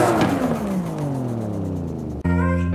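A 900 hp 1998 Toyota Supra drift car engine revs loudly, its pitch sweeping down from a high rev before cutting off abruptly and snapping back into a steady, harmonic-rich idle.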